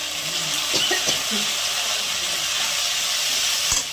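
Steady hissing sizzle of spice-bowl rinse water hitting hot fish-frying oil with spices, loud and continuous throughout, with faint clinks and a few brief background sounds.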